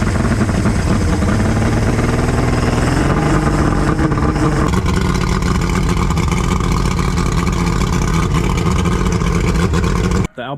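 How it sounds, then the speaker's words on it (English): A small outboard motor runs loudly and steadily, a continuous buzzing engine drone with a slight shift in pitch partway through, then cutting off abruptly. "The outboard's running."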